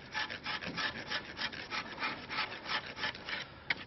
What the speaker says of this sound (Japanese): これも、細かいノコギリで